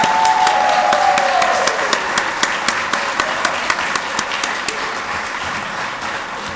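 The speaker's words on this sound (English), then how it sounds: "could I have another round of applause for these most deserving 2021 inductees?" An audience at an alumni Hall of Fame induction dinner applauds the 2021 inductees, with a sustained wash of clapping from a seated crowd and a few sharp, distinct claps standing out near the front as the applause slowly tapers.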